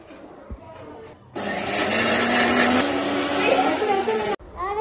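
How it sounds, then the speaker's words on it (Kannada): A kitchen mixer grinder whirring loudly and steadily as it blends onions for a paneer gravy, starting abruptly and running for about three seconds before cutting off, with a voice before and after. "ನೋಡಿ ಇವಾಗ ಮಿಕ್ಸರ್ಗೆ ಹಾಕಬೇಕು"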